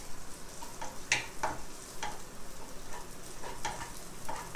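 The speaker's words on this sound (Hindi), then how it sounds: "अब हम इसी तरीके से भून लेंगे अपनी किशमिश भी।" Raisins roast in a pan, with a soft sizzle under repeated close scrapes and clinks of a stirring spoon at an uneven rhythm; no voices.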